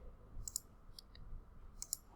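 A few sharp, crisp mouse clicks in quick pairs, close up, over a faint low background hum, with no talking.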